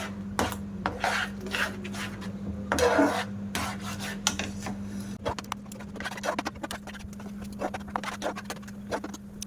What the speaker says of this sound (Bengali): দিয়ে ভালো করে মিশিয়ে নেব, যেন কোনো দলা দলা ভাব না থাকে।